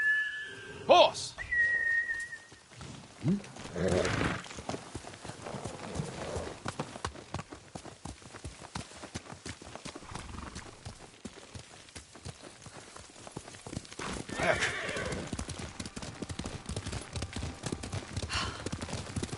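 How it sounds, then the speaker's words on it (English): Horse hooves clop along in the video game Ghost of Tsushima as the rider gallops, a steady rhythmic drumming heard close, with a sharp whistle near the start to call the horse and short bursts of speech. "Horse!"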